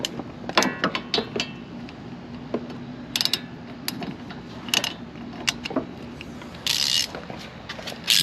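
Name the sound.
ratchet loosening a rear brake bolt on a Fiat 124 Spider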